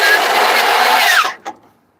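Power drill whirring steadily while working on a Volkswagen Constellation truck door part, close and loud for over a second, then cutting off and followed by a single short burst.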